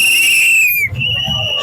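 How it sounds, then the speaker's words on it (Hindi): Children at a roadside religious fair in Haryana blow shrill whistles, one long piercing blast that slides down in pitch, then a second steady whistle, with crowd murmur underneath. "बच्चे कैमरे को देख करके ज़्यादा ये अपनी सीटियाँ वगैरह बजाते हैं"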